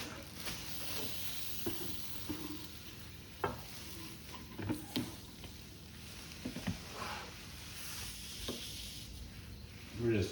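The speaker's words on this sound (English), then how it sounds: "We're just hosing it down." Water from a hose sprays over a Lodge cast iron pan during restoration, making a soft, continuous hiss. Scattered knocks and clatters break through the spray.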